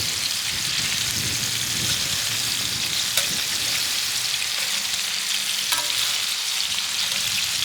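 Surf and turf searing loudly in a skillet, a dense rain-like crackle running throughout, with a couple of brief scrapes as the pieces get turned over.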